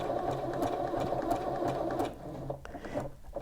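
A sewing machine stitches a button onto fabric at slow speed, making a steady close mechanical whirr that runs throughout and then briefly stops and stutters near the end, with no talk.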